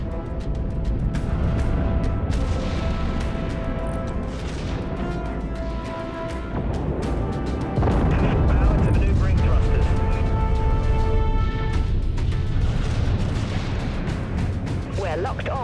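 Disruptor missile launches and explosions in the naval warship game Dreadnought, heavy booming blasts and bursts layered over sustained music and engine rumble, loud and continuous with a stronger surge midway.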